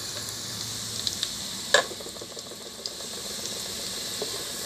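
Chicken pieces frying in a pan until brown for Filipino tinola, a steady soft sizzle with a brief louder crackle and stirring scrape partway through.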